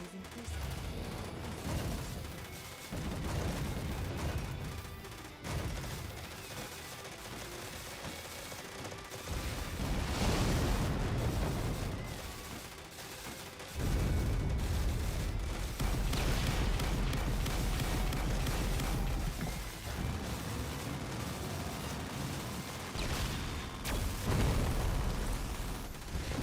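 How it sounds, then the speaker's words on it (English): A shoot 'em up video game on a Nintendo Switch fills the space with dense, continuous explosions, bursts and rumbling booms layered over a busy soundtrack, loud and unbroken throughout. "Enemy reactor. Watch out for explosions."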